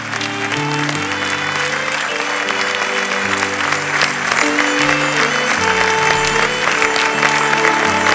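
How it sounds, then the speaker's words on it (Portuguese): A church congregation applauds steadily and loudly, with continuous clapping over a backdrop of sustained music tones, building slightly toward the end. "Aplauda a presença do Senhor."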